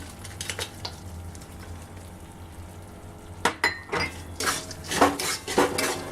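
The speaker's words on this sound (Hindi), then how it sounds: "अब हम इसमें ये बारीक कूटा हुआ गुड़ इसमें मिला देंगे।" Crushed jaggery being mixed into hot wheat flour in a pan off the flame, heard as intermittent spoon scrapes and metallic clinks against the pan, faint at first and busier toward the end, no talk.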